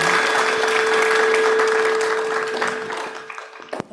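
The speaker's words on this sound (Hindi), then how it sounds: "एक बार फिर से ताली बजाइए।" Audience applause fills a large hall at a spiritual gathering, dense and steady for most of the clip before thinning toward the end, with a few last claps.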